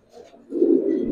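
Caged giribaz pigeons, a Palla-line loft breed, give a low, murmuring coo that swells from faint to steady and fairly close, with no talk over it.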